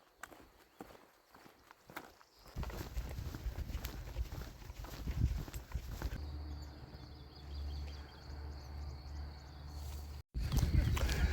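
Horses walk along a ridge-top trail between two valleys in the Lot region of France, their hooves clopping irregularly over steady wind and outdoor rumble, with faint birds and some nearby movement.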